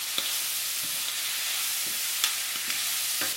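Squid stir-frying in a hot pan as oyster sauce goes in, a steady bright sizzle with a few soft stirring clicks scattered through, close and alone without voices.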